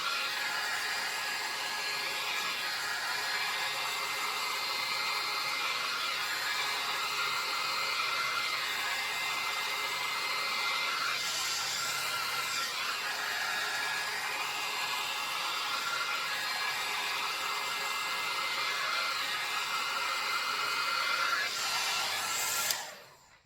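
A BaByliss rotating hot air brush dries hair with a loud, steady blowing whoosh that runs without a break for over twenty seconds, then cuts off abruptly at the very end.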